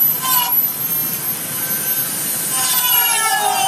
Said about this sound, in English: I need to hold my Dremel at a different angle